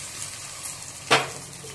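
Cumin and mustard seeds sizzle briefly as they hit hot oil for a tomato chutney tempering, a sudden close hiss that rises sharply and fades within a moment over a quiet kitchen background.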